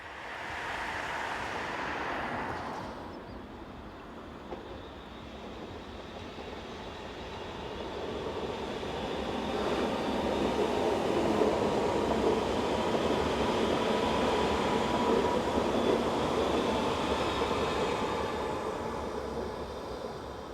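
BLS Class 535 units 125 and 119 pull away from a Swiss platform at Frutigen-area tracks, a rising rolling rumble and wheel noise swelling mid-clip then easing, heard at moderate distance without voices.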